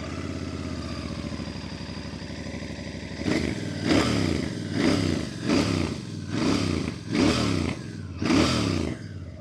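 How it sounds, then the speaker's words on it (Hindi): Royal Enfield Bear 650 motorcycle exhaust, idling at first, then six or seven sharp, loud throttle blips in a regular rhythm, close by with no talk. "मैं आपको इसके एग्जॉस्ट नोट सुनाता हूँ विच sounds actually different and actually more sportier"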